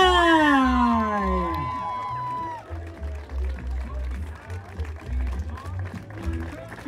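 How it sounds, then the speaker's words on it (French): A crowd at a Vintage Party's tenth-anniversary celebration breaks into applause for Miss Lady Fly, the dense clapping rising as a sweeping, tuneful sound fades and running on over a low, steady hum. "sous un tonnerre d'applaudissements, Miss Lady Fly"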